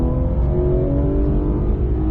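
A car accelerating hard during a track driving course, its engine droning steadily and close throughout with a strong low rumble and no voices.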